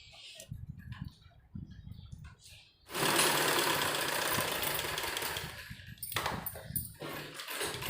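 A sewing machine stitches along the folded edge of a bell sleeve, starting with a few short rattling bursts, then a loud sustained whirring run, before trailing off into shorter stitching runs.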